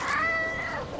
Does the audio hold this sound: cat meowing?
yes